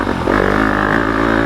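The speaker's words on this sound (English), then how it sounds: "Just go on the gas and it gets that nice aggressive sound" Yamaha YZ250FX dirt bike with a 270 big bore kit and stage 2 Hot Cams revving hard on the throttle: a loud, close, buzzing engine note that rises sharply and holds steady, with no talk.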